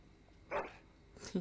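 A dog in the video game Dragon Age: Origins makes two short, brief canine vocalizations, one early and one near the end, with quiet game ambience between them.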